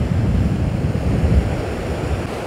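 River water churning and boiling below a dam as it flows toward the sea at a small port, a loud, dense, continuous low rumble with no voices.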